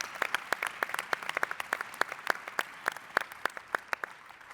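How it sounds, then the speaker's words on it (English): Scattered audience applause for athletes and speakers at a champions' event, sparse, distinct claps at a steady uneven rhythm, fairly near and moderately loud, with no voices. "a big round of applause for all the athletes, all the speakers"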